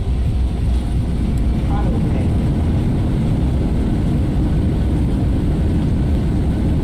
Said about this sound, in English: And reversers and spoilers deployed.